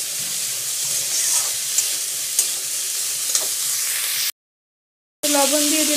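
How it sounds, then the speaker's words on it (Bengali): Semolina frying in a pan with salt and turmeric stirred in gives a steady soft sizzle with light scraping clicks, close and moderate, then cuts off briefly before a brighter burst. "এর মধ্যে ভাজতে ভাজতে এর মধ্যে একটু লবণ আর একটু হলুদ দিয়ে দেবো স্বাদ মতো।"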